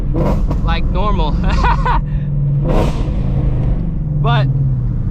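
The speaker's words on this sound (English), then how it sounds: "We got some Sunday morning traffic here." Sunday morning road traffic rolls past with a steady engine rumble and whooshing cars, while someone talks over the noise.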